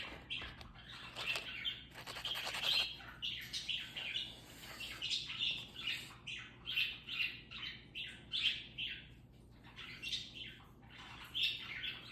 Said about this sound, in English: Do you hear the budgie talking?